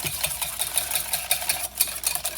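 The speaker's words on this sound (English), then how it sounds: "Now give that a quick whisk." Pumpkin puree mixture being whisked in a bowl with pumpkin pie spice, a steady run of quick, close scraping strokes with a light rhythmic clatter of the whisk against the bowl.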